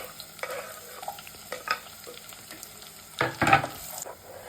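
Ginger and shallots fry gently in oil for a vegetable khichdi, a soft, steady sizzle with occasional stirring scrapes and a louder flare of crackling near the end.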